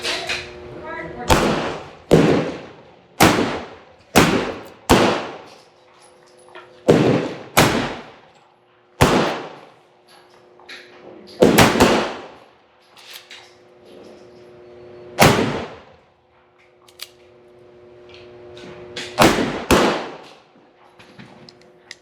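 Gunshots from a gun firing cast bullets from an RCBS 44-200-CM mold, about a dozen sharp loud reports spaced a second or two apart with decaying echoes outdoors, with people talking between shots.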